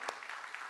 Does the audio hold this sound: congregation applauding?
yes